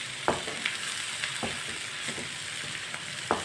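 Spices and fresh coriander fry in a pan with a steady, moderate sizzle and hiss, broken by a few sparse taps of a utensil.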